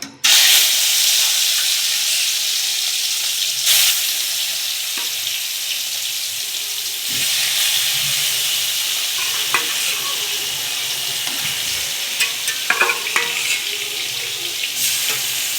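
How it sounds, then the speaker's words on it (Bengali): Pieces of fish fry in hot oil in a wok, a loud, steady sizzle that runs throughout with occasional crackling bursts, and no talking. "তেলটা খুব ভালো করে গরম হয়ে গেছে। এবারে মাছগুলো দিয়ে নেব।"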